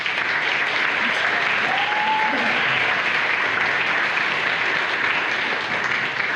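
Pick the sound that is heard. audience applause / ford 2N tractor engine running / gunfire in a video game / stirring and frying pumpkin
audience applause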